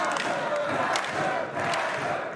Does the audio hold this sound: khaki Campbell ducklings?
no